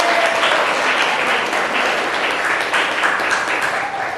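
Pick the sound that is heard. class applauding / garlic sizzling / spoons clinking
class applauding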